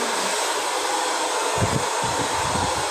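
A hair dryer blows with a steady loud whooshing roar throughout, alone without any talking.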